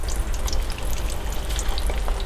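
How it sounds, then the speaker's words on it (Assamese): Poha cutlets shallow-frying in a small amount of hot oil in a pan, a steady dense sizzle with scattered crackling pops that runs without a break throughout, fairly close and with no voices. "এতিয়া মই এই তেলত এতিয়া এখিনি মই ভাজি লম"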